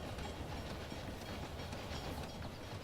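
A train rolls along in a railway video game, a faint, steady rumble with soft rhythmic clatter and no voices.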